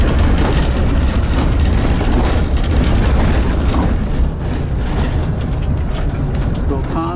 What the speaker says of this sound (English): driving this road with all these potholes is like driving an obstacle course